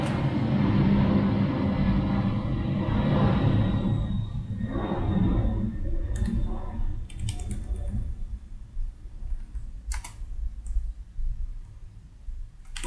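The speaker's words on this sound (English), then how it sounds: "More loud planes." A loud, low roar of airplanes passing overhead fills the first half, then fades while rapid computer keyboard typing and clicking carry on close by.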